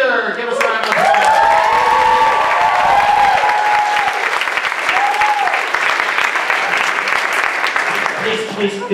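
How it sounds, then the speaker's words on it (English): An audience at a comedy show bursts into loud, sustained applause with cheering and whoops, a thick crowd roar of clapping that holds steady throughout, with voices calling out over it. "Give us a round of applause."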